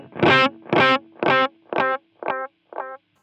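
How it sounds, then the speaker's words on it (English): Distorted delay echoes from a Line 6 Helix guitar processor: six gritty, buzzing repeats of one note, each evenly spaced and progressively quieter and shorter, fading away over about three seconds. "You see how those delays, those echoes are distorted."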